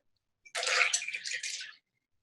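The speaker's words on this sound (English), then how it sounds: "Take your spicy margarita mix and pour that over." A spicy margarita mix pours over fresh ice in a glass, a short, close liquid splash and trickle lasting about a second in an otherwise quiet room.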